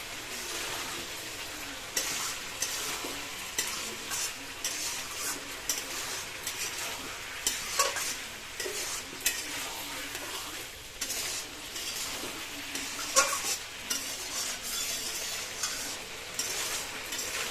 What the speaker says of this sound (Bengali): মা এখানটা ভালো করে খুব সুন্দর করে আগে কষিয়ে নিচ্ছে যাতে খুব সুন্দরভাবে কষা হয়ে যায়